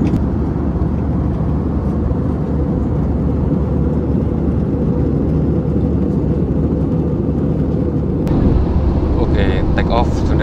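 Steady, loud cabin roar of a Batik Air airliner cruising at altitude on a Semarang to Jakarta flight, a constant broadband engine and airflow drone that continues unbroken with faint voices beneath it.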